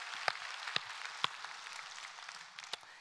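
Church congregation clapping during a Sunday worship service, a faint, scattered round of applause with a few sharp individual claps standing out.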